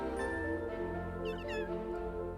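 A cat in the video game The Sims 3 lets out a couple of short, high meows partway through, fairly faint over a bed of sustained background music tones.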